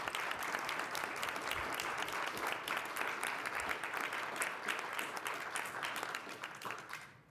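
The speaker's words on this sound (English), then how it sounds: "Round of applause." Attendees at a college governing board meeting give a steady round of applause, moderately faint and evenly sustained before tapering off, with a brief spoken remark.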